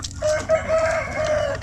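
Basilan and Zampen native chickens, with a rooster crowing in a long drawn-out call that breaks into several sustained segments, close and fairly loud over a low rumbling background.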